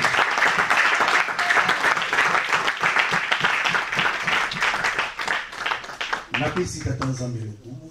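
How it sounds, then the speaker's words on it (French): A church congregation at a dedication service in Paris applauds and cheers together, a dense, steady wash of clapping that runs loud throughout before thinning near the end as voices and music come through. "Nous tous allons acclamer pour Dieu. Acclamons pour la parole de Dieu."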